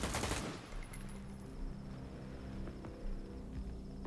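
A burst of rapid automatic rifle fire from a video game, loud and dense at first, then dropping to scattered shots and tails over a steady electronic hum, with no voices.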